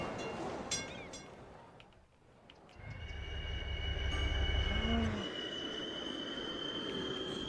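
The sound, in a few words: passenger train arriving at station in video game Cities: Skylines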